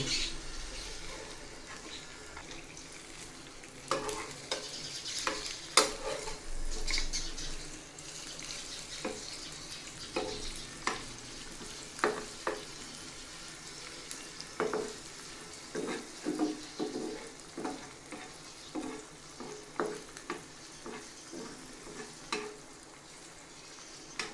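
Eggs cook in a pan with onion, chili and tomato, giving a quiet sizzle, with scattered scrapes and clinks of a utensil turning them over at irregular intervals.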